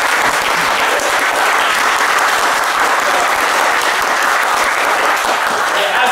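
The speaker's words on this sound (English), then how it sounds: "can we get another round of applause for everyone?" Sustained, loud audience applause fills the room at a Dublin spoken-word event, a dense steady wash of many hands clapping throughout with no break.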